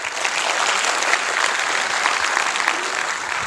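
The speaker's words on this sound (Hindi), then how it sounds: "तालियां होनी चाहिए" An audience breaks into dense, steady applause at a motivational talk, loud and sustained for a few seconds with no voices over it.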